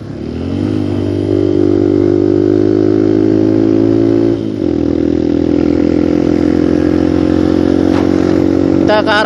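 A motorcycle ridden at full throttle roars loud and close, with a sustained high engine drone that dips briefly at a gear change and then climbs again, and a voice talking over it.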